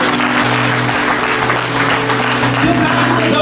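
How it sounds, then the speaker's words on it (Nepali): A church congregation claps together in thanks after a prayer for healing, a steady, dense wash of many hands filling the room, with faint tones and voices mixed underneath. "प्रभुलाई ताली बजाएर प्रभुलाई धन्यवाद दिउँ"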